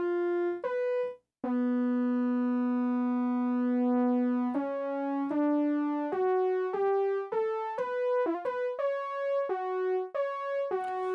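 A synthesizer patch imitating a muted French horn plays a slow melody of sustained, mellow brass-like notes, one after another with short breaks, steady and clear with no other sounds.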